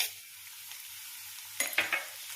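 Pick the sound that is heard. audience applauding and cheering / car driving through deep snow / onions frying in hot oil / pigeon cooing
onions frying in hot oil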